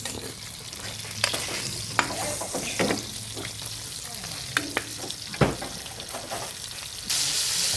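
Minced meat sautéing in a pan with onion, garlic and tomato, a steady close sizzle broken by repeated scraping stirs and utensil knocks, growing louder and hissier at the end.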